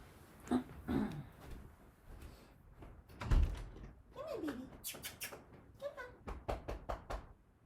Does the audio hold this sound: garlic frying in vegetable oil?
no